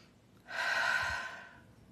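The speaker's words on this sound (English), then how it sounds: "Take a nice breath" One deep, audible inhalation taken during a guided meditation, close and breathy, rising for about a second before fading, with no talk over it.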